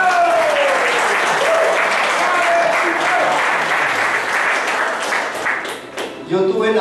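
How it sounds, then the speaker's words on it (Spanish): An audience in Arequipa gives loud, sustained applause, dense steady clapping that fills the room and tapers near the end, with voices mixed in beneath it. "acá un aplauso para ellos, por favor"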